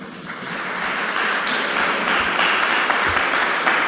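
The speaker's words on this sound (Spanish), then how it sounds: "Gran aplauso." An audience at a 3D Wire 2018 VR production talk applauds, a dense, steady wash of many hands clapping that swells and holds for several seconds, loud and close, with no speech over it.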